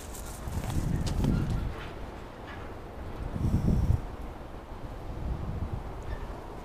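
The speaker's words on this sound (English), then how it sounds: "this wind is making my allergies act up" Outdoor wind at a plant nursery buffets the microphone in low, rumbling gusts that swell and fade, with a few faint higher sounds over the top.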